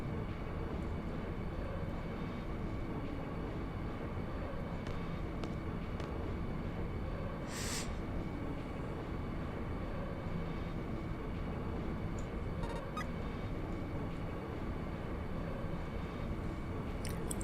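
Quiet, continuous rumble of a train passing through an undersea tunnel in the video game Final Fantasy VIII, a faint steady rolling hum with a few soft clicks and no talking.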